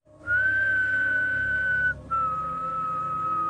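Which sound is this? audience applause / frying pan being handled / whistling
whistling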